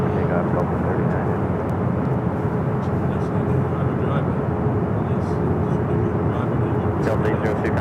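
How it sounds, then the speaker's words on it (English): A Delta heavy jet takes off from runway 24 left at Los Angeles International Airport, a loud, steady, broadband engine roar held throughout, with faint clicks and bits of radio chatter over it. "Delta 39 heavy, wind calm on Delta 24 left, clear to take off."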